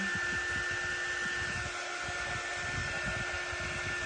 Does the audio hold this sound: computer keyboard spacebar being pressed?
no